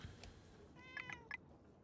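A kitty from the game Knights and Bikes lets out two or three short, quiet meows in quick succession over faint background sound, with no talk.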